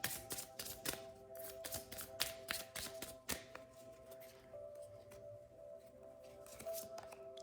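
Oracle cards drawn from the Moody Moon deck make quiet, crisp flicks and papery slaps, a quick run of close card shuffles and snaps that thins out over a soft background hum.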